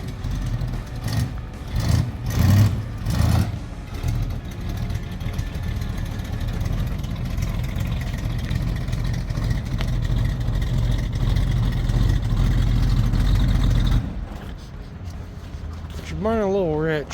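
A 1968 Ford Mustang engine, running rich on a backyard restomod restore, idles with a loud low rumble close by, steady for about fourteen seconds before dropping off, while people talk over it.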